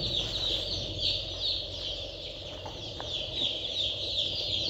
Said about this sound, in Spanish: Ya se me está haciendo más grande la polladita acá.